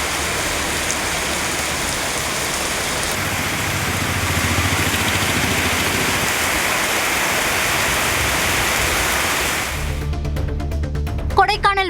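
Moderate rain falls steadily across southern Tamil Nadu towns, a dense broadband hiss that holds for about ten seconds before cutting to a brief different sound at the end.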